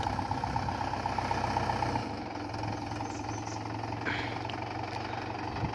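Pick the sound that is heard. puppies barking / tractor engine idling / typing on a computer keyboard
tractor engine idling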